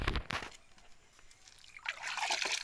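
Water trickling and splashing gently from a spring-fed well, soft and close, with a brighter burst of flowing water toward the end.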